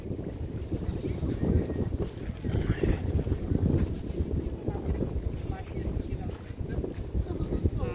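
Steady wind buffets the microphone at the Oslo Opera House waterfront in Bjørvika, a continuous low rumbling roar with gusty swells.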